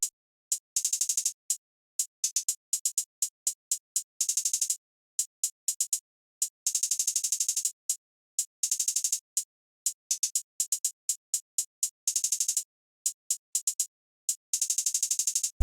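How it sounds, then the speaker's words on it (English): A crisp trap hi-hat pattern for a beat ticks in steady bursts, broken up by rapid stuttering rolls, bright and close, playing alone with no talk. "And the hide pattern is sounding like this."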